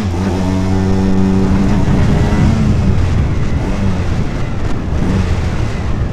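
Aprilia RS 125 sport motorcycle engine revving loudly and steadily while riding through town, a continuous buzzing drone with rising harmonic pitch as revs climb toward 6,000 rpm, close and constant throughout.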